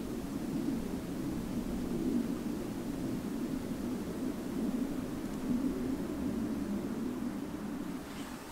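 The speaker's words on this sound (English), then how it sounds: "Third airplane in the Boundary Waters." An airplane passes over the Boundary Waters wilderness as a steady, low broadband drone, moderately loud and even throughout, with no voices.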